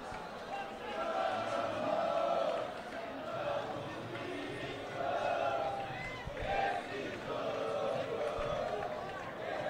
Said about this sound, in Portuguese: A torcida não para um segundo aqui no Centro Esportivo.